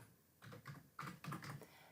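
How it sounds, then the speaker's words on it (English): Computer keyboard typing while entering text into a WordPress page editor: several quick bursts of clicking keystrokes in short irregular runs, close and fairly quiet, with no voice. "and then we can just start typing."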